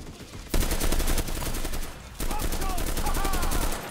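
Sustained automatic fire from an STG-44 in the game Enlisted, dense rapid shots in long bursts with a short pause between them, loud and close throughout.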